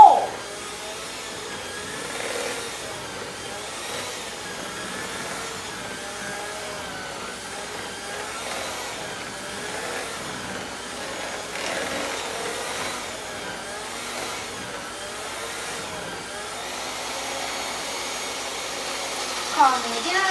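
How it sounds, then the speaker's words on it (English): A handheld electric mixer beats batter in a bowl that is turned by hand, giving a steady, fairly soft motorized whir that continues for about twenty seconds with slight changes in pitch. "Now because I'm using a handheld mixer, I have to mix and turn my bowl."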